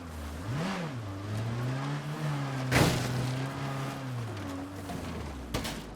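A game car's engine drones and shifts pitch as it drives over rough, uneven terrain, with a couple of sharp thumps from bumps along the way, steady and close.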